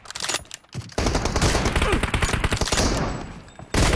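Rapid automatic gunfire in PUBG Mobile, a loud, close, sustained burst of dense shots after a couple of brief opening pops, running several seconds, then trailing off before another sharp burst starts, with no voices over it.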